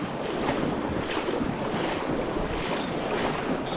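Fast water rushes steadily along the Russian River in Alaska, a close, continuous broad wash with wind buffeting the microphone and no voices.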